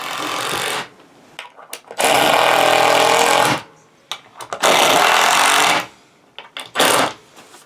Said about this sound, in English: flip this upside down and drive a few screws, about 4 screws